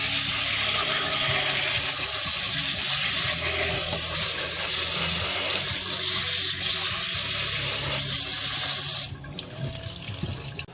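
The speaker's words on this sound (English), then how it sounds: "Then we're going to wash our rice real good." Rice is rinsed at a kitchen sink under running tap water, a steady close splashing hiss with faint stirring textures that cuts off sharply near the end, leaving quieter dripping.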